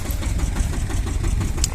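A Shifeng tractor engine runs at a steady, close, low chugging rumble, with no voices.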